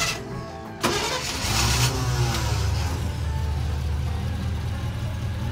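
A Chevrolet truck engine cranks and catches with a sudden burst, revs up for about a second, then settles into a steady, loud idle rumble.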